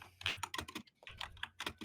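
Rapid bursts of typing on a computer keyboard, uneven clusters of clacking keystrokes close by, with a brief pause in the middle.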